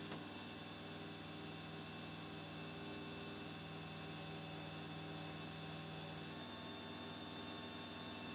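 A mini drill set up as a small polishing lathe runs steadily under load, turning a high-speed steel piece with a constant whine and hum and no break in the sound.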